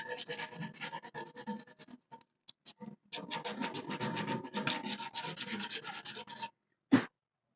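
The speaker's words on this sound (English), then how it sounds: "So I just got me a little piece of sandpaper." Sandpaper scrubbing bare metal on a 1956 Ford milk truck, cleaning a spot for a tack weld: close, loud, rapid back-and-forth rasping strokes in bursts with short gaps, then one last isolated stroke near the end.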